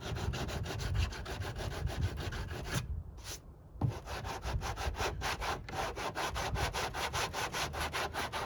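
Rapid back-and-forth hand sanding scrapes over foam and paint on a C8 Corvette body, a close, dense rhythmic rasp that stops for about a second partway through before picking up again.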